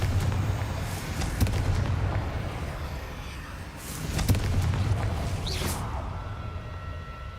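A Confringo blasting spell from Hogwarts Legacy erupts in booming, crackling explosions, two big surges a few seconds apart over a rumbling low roar that fades out, with no talking.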